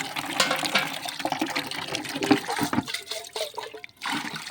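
Water sloshes and swirls in short splashy bursts as something is swished around in it, close by with no talking.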